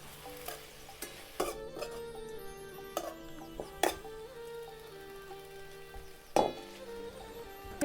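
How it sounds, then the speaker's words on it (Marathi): A spoon scrapes and clinks against a pan while a drumstick-leaf vegetable bhaji with soaked moong dal and flour is stirred, with soft sizzling beneath scattered sharp metallic taps and scrapes. "आता हलवून घेते"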